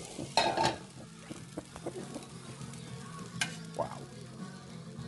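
Meat sauce with garlic and cheese sizzles softly as it heats in a pan, with faint stirring scrapes and clinks, and a person speaks briefly.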